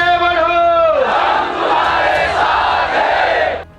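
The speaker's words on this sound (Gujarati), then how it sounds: "ચારે કોર અકરે ઠઠ ભીડ હતી" A large crowd at a political rally held in the rain roars and shouts together, a loud sustained mass of voices that rises after a brief opening tone and then cuts off.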